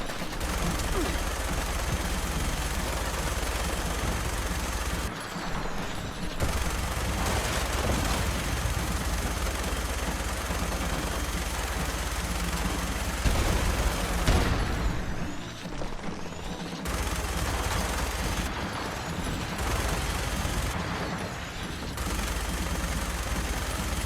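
Gunfire rattles continuously at turrets in a video game battle, a loud dense stream of automatic shots with brief pauses, while players talk over it.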